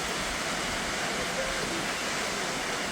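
Noccalula Falls, a natural waterfall once called Black Creek Falls, pours with a steady, unbroken broadband roar that holds an even level throughout, with no voices over it.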